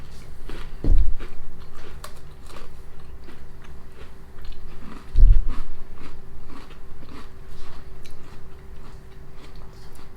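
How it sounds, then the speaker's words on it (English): A Jack and Jill cookie crunches between the teeth in two sharp, loud bites about four seconds apart, followed by softer close-up chewing in between and after, with no talking. "as you're crunching the cookie"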